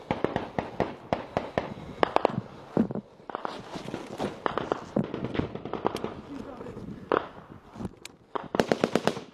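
Troops fire rifles across an open field in sharp, irregular bursts of shots, some spaced and some rapid, loud and near throughout, with voices heard faintly among the gunfire.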